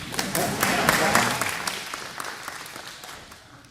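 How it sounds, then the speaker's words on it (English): Small audience at a disaster-preparedness talk claps briefly with a few voices calling out, louder at first and tapering off over a few seconds. "You're supposed to clap and say, wow"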